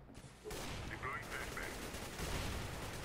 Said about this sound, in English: Some blind AK shots going through the smoke.